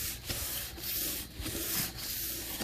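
Polyurethane finish being rubbed out by hand with pumice on a sanding block over wood, a steady close scrubbing swish in repeated back-and-forth strokes with no voices.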